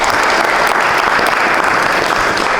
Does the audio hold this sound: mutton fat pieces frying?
no